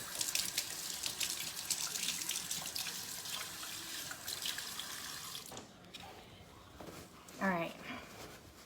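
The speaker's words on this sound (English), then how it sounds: "Let me wash my hands." A tap runs into a sink as hands are washed, a steady close splashing rush that cuts off partway, followed by quieter drips and a brief voice.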